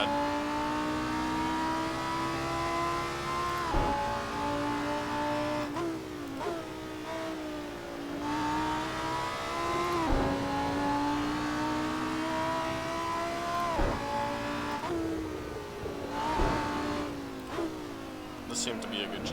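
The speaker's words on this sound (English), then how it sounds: "Because your engine is too noisy." A Lamborghini Super Trofeo race car in Assetto Corsa at Imola, its engine revving loudly and climbing through gears with sharp shifts and falling pitch under braking, nearby and continuous while someone talks over it.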